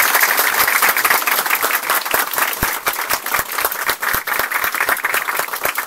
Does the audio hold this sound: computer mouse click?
no